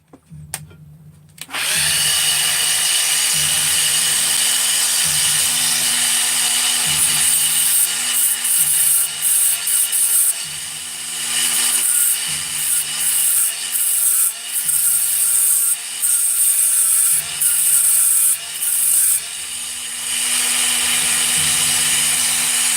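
A steel thread insert for a Ratty 394 magnesium crankcase has notches cut into it by a power tool, which whines loudly and almost without a break. The pitch wavers steadily as the cutting load changes.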